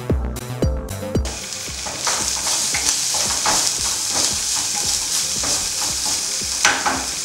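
Bitter gourd pieces fry and sizzle steadily in a pan for a kakarakaya pulusu curry, with a few scraping stirs at the start and a continuous crackle throughout.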